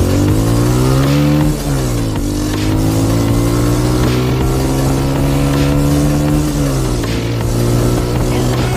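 Hero Splendor motorcycles ride at speed with a loud, close engine drone that rises and falls through gear changes, mixed with rushing wind.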